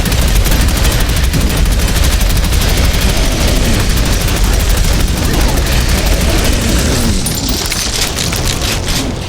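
Sustained rapid minigun fire in the video game Prodeus, a loud continuous roar of gunfire with booming impacts packed densely throughout and a voice talking under it.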